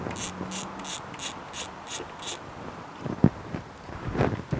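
A ratchet clicks in a quick, even series of about eight strokes while 10mm bolts come off a Mitsubishi 3000GT, close up, followed by a few duller knocks and handling noises.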